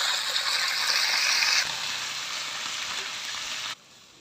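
Tofu and bell pepper stir-frying in a pan give off a steady, loud sizzle with scraping and stirring texture throughout, and the sizzle drops away abruptly near the end.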